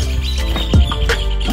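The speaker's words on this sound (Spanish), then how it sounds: "Pájaros." A few short bird chirps ring out close by over a low background hum.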